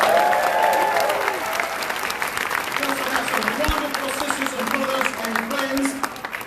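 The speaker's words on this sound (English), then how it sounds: "Please give them a big round of applause." A union rally crowd in Chicago claps and cheers loudly and continuously, with shouts and voices rising above the sustained applause.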